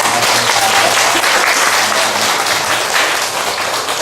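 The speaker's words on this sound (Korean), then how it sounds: "한번 박수로 환영합니다." Steady applause from a church congregation fills the whole stretch, dense and loud, with no pauses.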